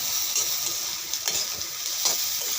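Dried kakchi fish sizzles with onion in hot oil in a pan, a steady close frying hiss with a few stirring scrapes, no talk.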